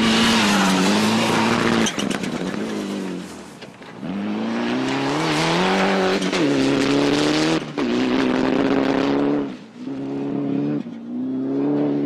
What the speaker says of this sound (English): Rallying and drifting have a lot in common because of the ability to control the car sideways.